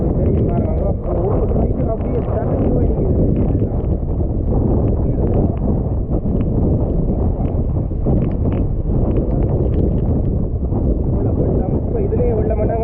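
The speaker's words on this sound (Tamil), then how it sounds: "காற்று அடிக்கிறது" Strong wind roars steadily against the microphone, a dense, continuous rumble with a voice partly buried beneath it.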